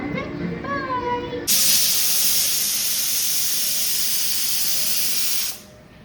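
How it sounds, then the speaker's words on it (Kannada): A pressure cooker holding mutton sambar vents steam in a loud, sustained hiss that bursts on suddenly after a moment of faint background sound and stays steady for about four seconds before cutting off abruptly. "ಕುಕ್ಕರ್ ಓಪನ್ ಮಾಡೋಣ"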